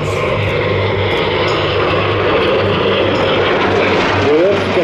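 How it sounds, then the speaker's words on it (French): A loud F-86 Sabre jet fighter engine drones steadily with a low hum at an air show, while a voice talks over it. "Le voici, le plus beau des jets."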